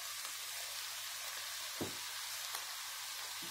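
Sliced chicken breast strips tossed into softened vegetables in a covered pan over low heat, giving a faint, steady sizzle with a couple of soft knocks.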